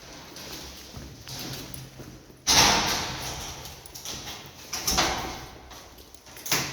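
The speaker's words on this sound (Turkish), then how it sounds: "bu kapı açılıyor ki. Açılmıyor." A door rattles and thumps as someone tries it, with sharp knocks and scraping bursts against faint background noise.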